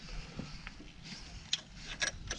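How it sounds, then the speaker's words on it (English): Ratchet wrench clicking in short bursts while tightening timing chain guide bolts on an Audi/VW 2.0T TFSI engine, faint and close, with brief metallic ticks scattered through a quiet workshop. "now you could tighten all the guide bolts."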